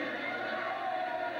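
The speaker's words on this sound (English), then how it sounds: "Now the crowd is getting on Randy Woods." A basketball arena crowd jeers a player, a dense, steady roar of many voices at moderate volume.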